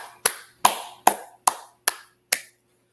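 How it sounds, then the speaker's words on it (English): Six sharp, evenly spaced claps ring out one at a time in a steady rhythm, each crisp and close with a brief decay, at a religious brotherhood class gathering. "Let's clap it up."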